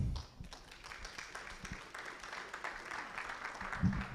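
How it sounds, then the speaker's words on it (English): An audience applauds in a steady patter of clapping that carries on for several seconds, with a few sharper claps standing out. "Please let's give Mr. Jeremiah Sixtus Derry another round of applause."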